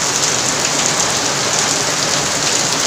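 Heavy rain pours down in a dense, steady roar of drops hammering surfaces, loud and unbroken throughout, with no voices.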